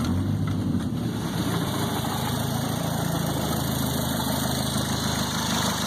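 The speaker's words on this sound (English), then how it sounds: "This is the 3-inch exhaust." A car engine idles steadily through a 3-inch exhaust with a short glass pack and small catalytic converter, giving a constant low rumble with faint vibration that holds level throughout, with no talking.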